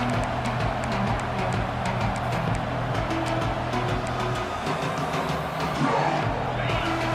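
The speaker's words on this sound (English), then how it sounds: "this crowd is fired up. Listen to this noise here." A large crowd roars steadily, a dense, continuous wall of cheering and shouting from a packed college football stadium at a Texas vs Arkansas game, loud and sustained throughout.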